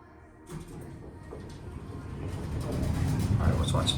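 An Otis hydraulic elevator at a Macy's Home store in Florence Mall, Kentucky, rated for 4,000 pounds, with its motor starting and a steady rumble building up and growing louder. Faint background noise runs through it.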